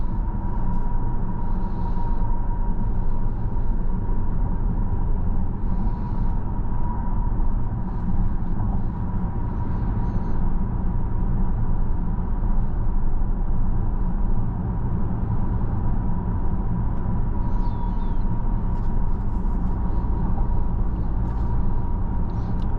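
Steady low-frequency road and tire rumble inside a moving 2022 Volvo XC90 Recharge T8 Inscription plug-in hybrid SUV, a constant hum with a faint tonal whine throughout, with no talking.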